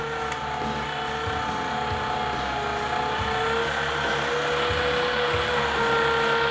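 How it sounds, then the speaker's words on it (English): An STX 3000 electric meat grinder grinds deer meat for sausage, a loud, steady motor whine and drone running continuously and close, without pauses or talk. "This is a really good meat grinder."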